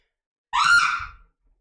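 A woman screams in the background while playing the game Lethal Company, a single rising cry lasting under a second that fades out, heard alone without talk.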